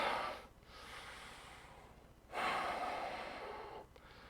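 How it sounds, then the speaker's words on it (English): Deep breathing in a yoga session, two long airy inhales close to the listener, each drawn slowly for over a second, with a shorter soft breath at the end and no talk. "Breathing in deeply."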